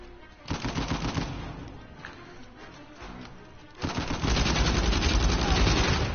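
Automatic gunfire in the video game Uncharted 4, loud dense bursts of rapid shots, the second burst heavier and sustained to the end.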